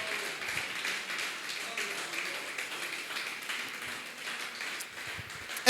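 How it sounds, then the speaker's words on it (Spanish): A church congregation claps for God during a Sunday school service, a steady, fairly quiet patter of many hands that carries on for several seconds at a moderate distance. "Denle ese aplauso al Señor."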